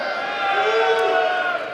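A live audience at a UFC Q&A cheering for a fighter, a brief swell of crowd voices and shouts filling the hall, loud and sustained for under two seconds.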